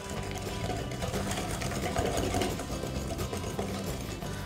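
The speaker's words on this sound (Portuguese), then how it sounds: "Só vou misturar um pouco esses ingredientes para ficar bem homogêneo. É só bater mais ou menos por 1 minutinho" An electric mixer whirs steadily through cornmeal and coconut cake batter, a dense mechanical buzz with a rattling, gear-like texture that runs unbroken and close for the whole stretch.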